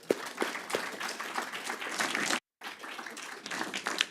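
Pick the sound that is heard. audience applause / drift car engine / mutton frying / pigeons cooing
audience applause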